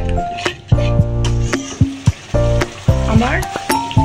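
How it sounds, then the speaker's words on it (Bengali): Yogurt masala sizzling in a pan for a doi katla fish curry, stirred steadily with a spoon; a continuous close fry hiss with repeated scraping strokes and occasional clinks, no voices. "ভালো করে নেড়ে দেবো, এটা ভালো করে মিশিয়ে দেবো মশলার সাথে যাতে দইটা কোনো রকমভাবে কেটে না যায়।"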